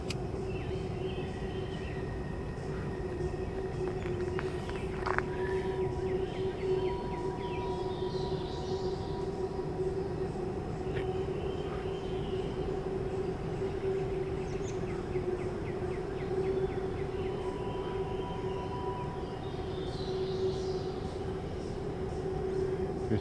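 Westbound empty coal train approaching at Fort Hill, wheels squealing in thin high-pitched bursts over a steady low rail rumble and hum, distant but continuous.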